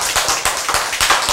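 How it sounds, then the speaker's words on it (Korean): Church congregation clapping during a sermon, a short run of sharp, fairly rhythmic claps close by, about seven distinct hits. "박수"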